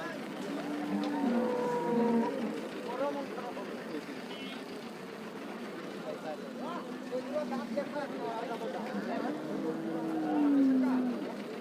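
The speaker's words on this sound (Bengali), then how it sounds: "আমি আপনাদেরকে দাম জানানোর আগে এই গরুটা একটু দেখাই" A cow lows several times over a busy outdoor cattle market in Rajshahi city, with people talking throughout and a deeper moo rising near the end.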